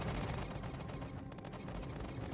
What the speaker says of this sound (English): Not sure about these laser cannons I put on.